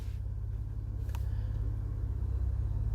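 A Cadillac ATS-V twin-turbo sedan cruises along with a steady, low engine drone and rumble from inside the cabin. The sound stays even and moderately loud, and one brief click sounds partway through.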